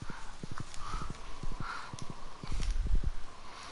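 Horse hooves clip-clop in a quick, steady rhythm in the Stardew Valley farming video game, close and even, with game ambience underneath.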